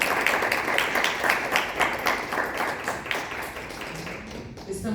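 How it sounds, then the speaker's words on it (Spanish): Audience at the close of an academic colloquium talk gives steady, fairly loud applause of many hands, with faint voices mixing in as the clapping thins toward the end. "Un aplauso."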